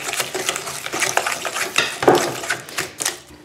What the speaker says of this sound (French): Ensuite, je mélange